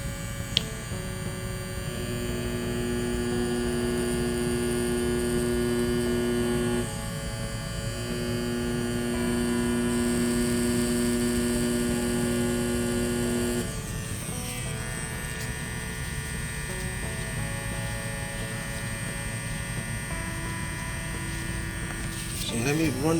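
A compact Mast Tour Y23 permanent makeup machine runs with a steady electric hum and faint buzz, continuous throughout, its pitch shifting slightly at two points, with no speech.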